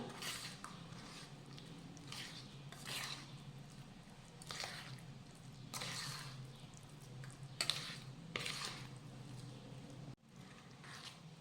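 Curd being stirred into peanut chutney in a bowl for a Navratri fasting recipe, with soft repeated scraping and squishing strokes of a spoon, close and quiet, with no talking.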